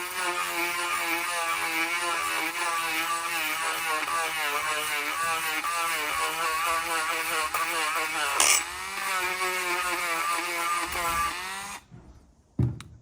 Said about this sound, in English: We're just taking this Dremel with a sand bit on it and just trying to Dremel out as much of this inside as we can